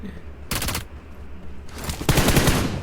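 Automatic fire in PUBG Mobile comes as two loud, close bursts, a short one first and then a longer rattling string, with little talk around it.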